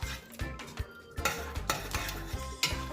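A spoon stirs Jamaican rice and peas in a metal pot, with repeated scraping clinks and knocks against the pot in an irregular rhythm, close and fairly quiet, with no talking.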